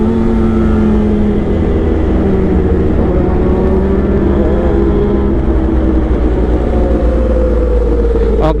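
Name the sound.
Kawasaki H2 supercharged motorcycle engine started and running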